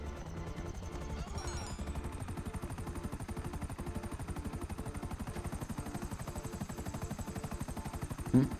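Video game helicopter rotors chop in a fast, steady rhythm throughout, fairly quiet and continuous, with a short louder knock at the very end.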